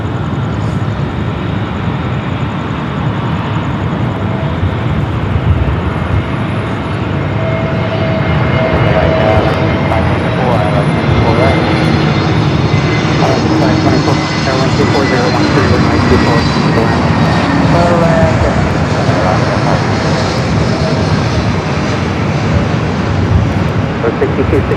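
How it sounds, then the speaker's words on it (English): An American Airlines Airbus A321neo arriving at LAX on the north side from Kahului, its engines a loud, steady roar that swells slightly and holds throughout, with a voice talking over it. "Next arrival here on the north side, American Airlines coming in from Kahului in the A321 Neo"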